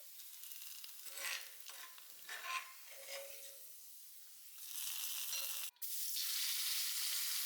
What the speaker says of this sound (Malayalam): നമുക്ക് വെളിച്ചെണ്ണയിൽ ചെറിയ ഉള്ളി വറുത്തിടാം